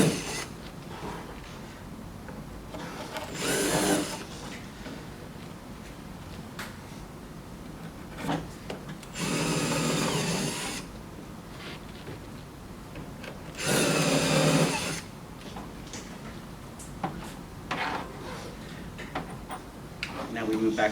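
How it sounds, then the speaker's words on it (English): Power drill driving wood screws into a wooden bat box kit, with three bursts of drilling of a second or two each amid quieter handling and rubbing sounds. "Now we move back to our screwdriver bit and install our final wood screws."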